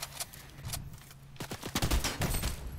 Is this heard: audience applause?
no